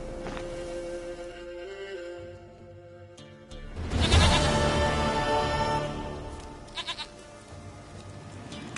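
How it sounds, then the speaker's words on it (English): A goat in The Witcher 3: Wild Hunt bleats loudly and close, a drawn-out wavering cry that swells midway, set against a soft game ambience. "goat of mine, dearest, sweetest goat."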